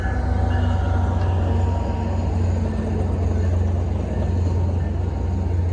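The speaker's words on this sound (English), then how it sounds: "The train is loud." A train passes close by, its steady, loud low rumble and rattling wagons filling the whole stretch without a break; a faint voice is barely present underneath.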